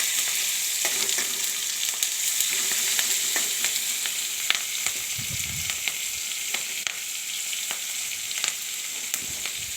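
Sliced green chillies hit hot oil for a hilsa fish curry, producing a dense, steady sizzle up close, broken by scattered crackles and a brief low stir midway.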